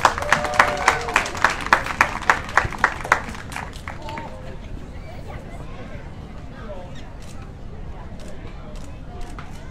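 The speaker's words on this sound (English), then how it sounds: "let's give a big round of applause for them" An event crowd at a zoo closing ceremony gives a round of rhythmic clapping that fades out after a few seconds, leaving crowd murmur and distant birds in the background.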